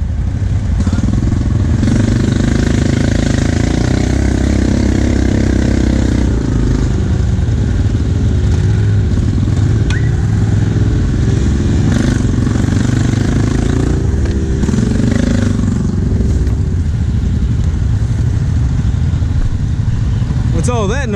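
A Polaris ATV engine revs hard at an off-road ATV park during a vehicle recovery, a loud, close, sustained roar with clattering and fluctuating throttle, while people talk over it.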